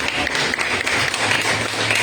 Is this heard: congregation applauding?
yes